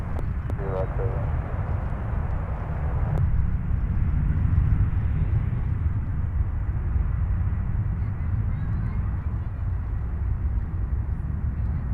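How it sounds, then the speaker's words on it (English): A Delta Embraer E175 jet airliner taxis at Nashville airport, a steady low engine rumble and roar heard from a distance, with a brief voice near the start. "Our next departure, taxiing over to 20 Center, Delta 3941 and E175L, headed to JFK"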